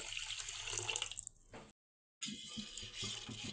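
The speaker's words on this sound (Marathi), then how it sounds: "मी इथे ह्या ग्लासाने तीन ग्लास याच्यामध्ये पाणी टाकणार आहे" Three glasses of water poured from a glass into a pot of sugar for khoa gulab jamun syrup, a close steady splashing stream that stops briefly and then resumes with light gurgling.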